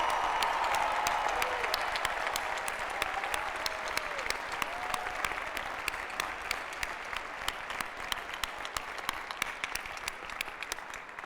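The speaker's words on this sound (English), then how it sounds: "join me in a huge applause of welcome for all the moms here with us today" Sustained applause fills a large commencement audience at UNC-Chapel Hill, a dense steady patter of many hands that carries on for over ten seconds and fades slightly toward the end, with faint voices mixed in.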